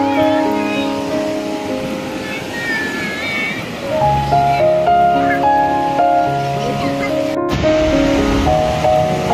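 Steady surf on a Shenzhen beach, a broad continuous wash of waves that swells louder midway, heard beneath background music.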